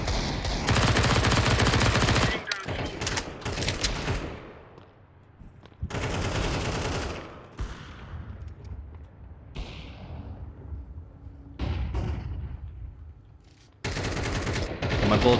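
Sustained bursts of automatic gunfire from a player's weapon in a fast-paced shooter video game, loud dense volleys broken by short pauses, with occasional quieter gaps and faint talk.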